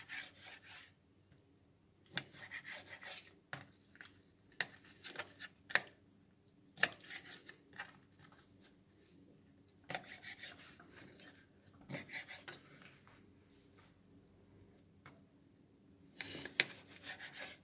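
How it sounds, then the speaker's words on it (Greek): A knife cuts cuttlefish on a cutting board while preparing cuttlefish with short pasta. There are irregular bursts of scraping, slicing strokes separated by quiet pauses, close by and with no talking. "Και τώρα είτε να κόψουμε τις σουπιές."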